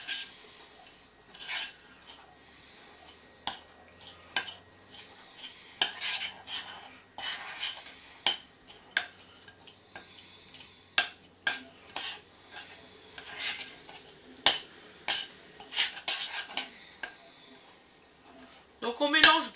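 Almond cream being stirred in a bowl with a utensil, a series of scattered scraping and clinking strokes against the bowl, irregular and close, with quiet gaps between them.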